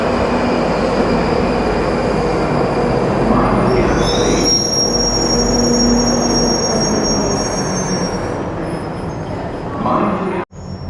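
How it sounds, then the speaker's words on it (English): London Underground Northern line train pulling into South Wimbledon station heading for Morden, loud continuous rumble with high-pitched wheel squeal rising over the rail noise, then braking to a near stop. "we got a train coming in for Morden."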